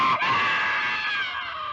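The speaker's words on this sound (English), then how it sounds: "that's my favorite scream in the movie." A man lets out one loud, drawn-out scream from King Kong (1933), a sailor's cry as a Brontosaurus seizes him, rising sharply and then fading over under two seconds.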